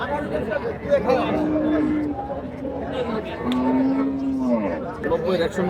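A dairy cow and her calf low at a cattle market, with several drawn-out moos rising over a background of crowd chatter and nearby voices.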